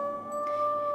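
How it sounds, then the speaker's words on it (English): A wolf howl from the video game WolfQuest, a steady sustained tonal call held for the whole second, clear and fairly loud with no talking. "Let's go ahead and keep howling."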